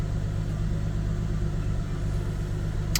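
A 2005-2014 V6 Ford Mustang engine idling with a fuel rail pressure sensor fault code, a steady low rumble heard close up and alone, with a brief click near the end.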